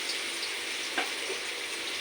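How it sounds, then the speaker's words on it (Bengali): Sliced pointed gourd (potol) frying in oil in a pan for a Bengali potato-and-potol curry, a soft steady sizzle with one brief louder crackle midway and no talk. "পটলটা ভাজা হচ্ছে।"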